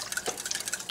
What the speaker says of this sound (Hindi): इसके अंदर दूध डाल दें।